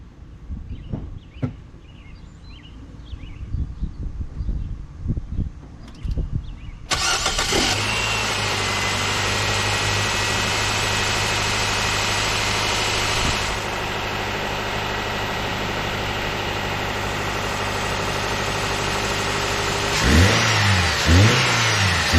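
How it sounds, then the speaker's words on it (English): A Nissan Sentra after a tune-up starts with a loud crank and catch, then settles into a steady close idle before the engine revs up near the end. "Now we'll go ahead and start the car."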